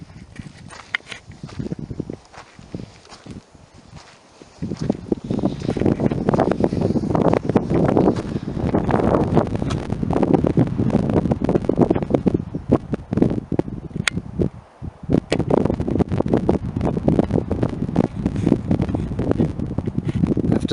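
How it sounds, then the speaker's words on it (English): Wind gusting across open, hot outdoor country with a small road about half a mile away. It makes a steady broadband rush with a quieter lull at the start, then constant loud buffeting, probably striking the microphone. "To see if the camera picked up that wind blowing."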